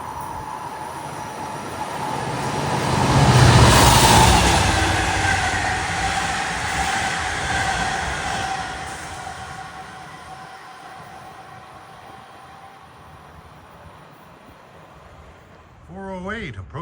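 A Long Island Rail Road train bound from Long Island City to Port Jefferson approaches fast, its rumble and tonal wheel ring swelling to a peak and then slowly fading as it passes, with a brief voice near the end.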